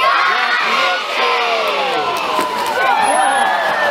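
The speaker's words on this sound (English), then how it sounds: "throw your hands up in the air and yell out, jump, Michi." Zoo audience at a Taronga Zoo seal show in Sydney shouting together on cue, a loud dense mix of adult and children's voices yelling and cheering across the whole stretch.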